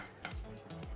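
A fork mixes softened butter with sugar by hand in a bowl, making quick, close scraping and tapping strokes over about a second, with no speech.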